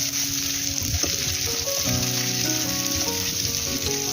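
Prawns frying in mustard oil in a kadai, a steady moderate sizzle with light bubbling and occasional stirring, heard alone without speech.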